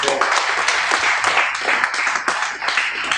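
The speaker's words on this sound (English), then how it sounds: "Let's give the Lord a clap." A church congregation claps during a sermon, producing a brief, fairly close patter of many hands at a steady, moderately loud level.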